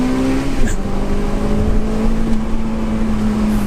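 A Honda Civic Type R FN2 accelerates hard, its engine note dipping sharply with a quick gear change before climbing again, loud and steady throughout with no talk.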